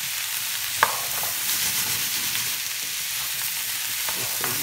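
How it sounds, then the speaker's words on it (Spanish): Sliced calabacitas fry in a full skillet with a constant close sizzle, broken by a few scraping stirs of a utensil against the pan. "Que se guisen un poquito las calabazas."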